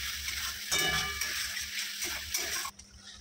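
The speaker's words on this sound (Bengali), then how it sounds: "এবার আমি মশলাটাকে ভালো করে কষিয়ে নেব" A spice paste with tomato, salt, turmeric and sugar fries in a pan with a steady close sizzle, punctuated by metallic clinks and scrapes of stirring before the sound cuts off abruptly.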